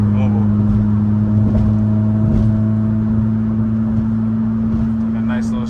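Steady loud road and engine drone inside a six-speed Honda Accord cruising on a highway with its rear seats removed, a constant low hum with slight bumps.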